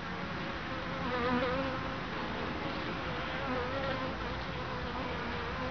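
Honey bees from a swarm colony housed in a hive box built of rough pine buzz steadily and continuously, a dense close-up hum with no voices.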